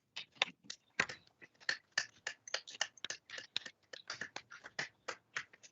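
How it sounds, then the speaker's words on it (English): Applause for newly admitted attorneys at an Appellate Division ceremony, heard over a video call: sparse, crisp claps from a few people, irregular and thin rather than a full crowd roar. "join in a round of applause for all the new attorneys"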